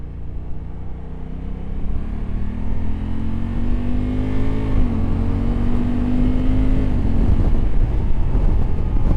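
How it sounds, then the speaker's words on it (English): A 2024 Honda Africa Twin motorcycle engine revs up steadily with a rising, throaty exhaust note, joined by wind rumble, loud and close throughout. "engine and the muffler sound is just amazing"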